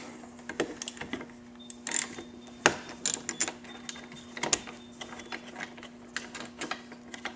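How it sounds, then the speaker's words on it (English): A ratchet working a 10mm windshield bracket bolt on a Victory Cross Country or Tour motorcycle, heard as irregular bursts of close metallic clicking and turning, with short pauses between strokes over a faint steady hum. "it's a 10mm bolt. And you have to unbolt that."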